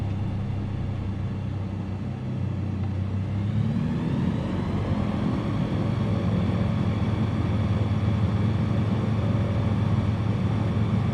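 A steady aircraft engine drone in a flight video game, throttle pulled back, with a brief dip and rise in pitch early on, then an even, continuous hum throughout.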